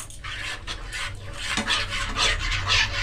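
Cashew nuts ground with yogurt into a paste are stirred and scraped in a pan for a cabbage malai curry, giving a steady close rasping and rubbing that grows slightly louder toward the end.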